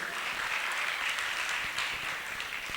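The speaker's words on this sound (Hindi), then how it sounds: "उनके लिए भी तालियां बजा दीजिए।" An audience claps during a religious discourse gathering, a steady, moderately distant wash of many hands with a few sharper individual claps standing out, no talking over it.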